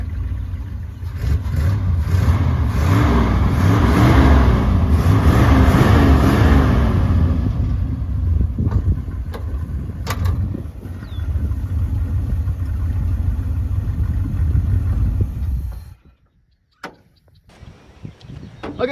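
1976 Ford F-250 farm truck engine revving hard under throttle and pulling away, a loud low rumbling drone that swells and eases, with clunks and rattles along the way, then cuts out abruptly near the end.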